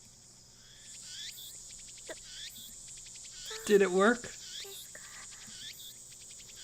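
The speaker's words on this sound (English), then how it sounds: "The only sound is the chirping of cicadas." Cicadas chirp steadily in a quiet anime scene, a thin continuous drone broken by short repeated trills, with a brief louder burst of a voice in the middle.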